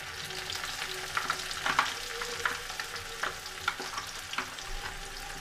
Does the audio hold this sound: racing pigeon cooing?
no